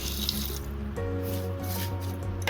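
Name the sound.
water poured into pressure cooker with cabbage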